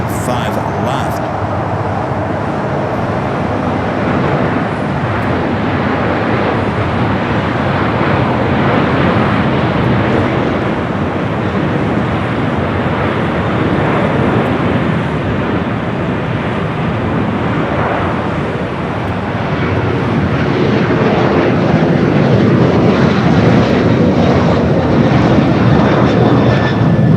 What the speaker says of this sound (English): Converted A330-300 coming from Mexico City, flight 6850. About to touch down there on the 25 left.